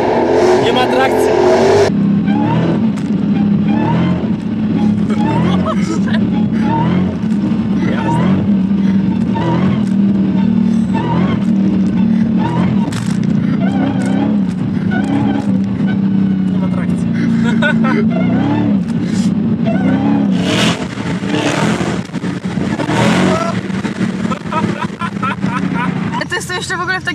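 A 2024 Dodge Challenger Hellcat Redeye with 808 hp revs and accelerates loudly and continuously on a slippery road, its deep engine roar rising and falling throughout while people talk over it inside the car.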